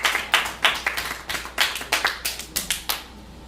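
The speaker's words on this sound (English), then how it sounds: "give Mr. 47 another round of applause," Hand clapping at a poetry event, about a dozen distinct, fairly loud claps in an uneven rhythm, close by and heard alone.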